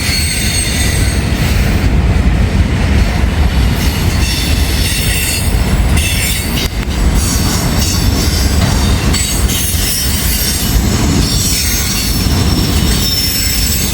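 A CSX freight train passes close by, running from Louisville toward Cincinnati, with loud, high, shrill wheel squeal over a heavy rolling rumble and intermittent clacking of the cars.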